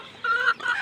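A healthy farm chicken gives two quick, close clucks in a short burst, loud and clear with no talking.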